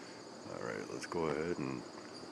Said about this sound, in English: you can see all the bees buzzing around me